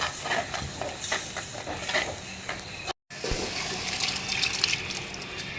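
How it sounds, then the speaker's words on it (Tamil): Water poured into a hot pan of frying roasted ground spice powder and chili powder for a country chicken curry hisses and sizzles steadily at close range, briefly cutting out midway before bubbling on. "கொஞ்சமாக தண்ணி ஊற்றிட்டு நல்லா வதக்கலாம்"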